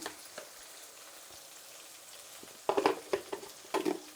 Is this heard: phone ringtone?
no